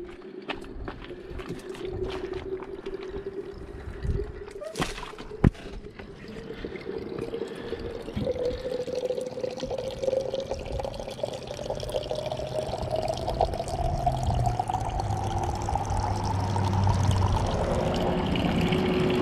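Mountain spring water pours steadily into a container, a continuous trickling gush whose pitch rises as it fills, loud and close with a brief clunk near the start.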